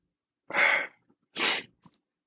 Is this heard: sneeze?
yes